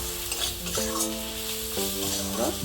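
Chili powder, spices and tomatoes sautéing in a pan for a katla fish and cauliflower curry, a close steady sizzle with stirring and a few brief squeaky tones over it.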